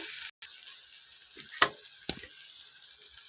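Spices frying in a pan for a roasted eggplant dish, a soft steady sizzle with a few brief scrape and clatter accents, close and alone.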